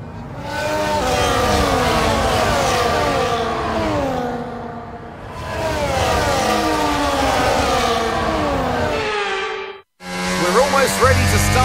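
F1 cars from F1 24 running a dry formation lap at Silverstone, engines loud and close with steady whining harmonics rising and falling, a brief cutout near the end before the engine note returns.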